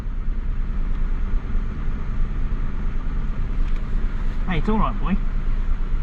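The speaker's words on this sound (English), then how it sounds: "Give it a bit of a rev. Rev's nice and smooth. Idle's coming straight back down." Mazda Bravo B4000 pickup engine, running rough on cold starts after an idle control valve change, revving smoothly and dropping back to idle, a steady close engine drone with someone speaking briefly over it.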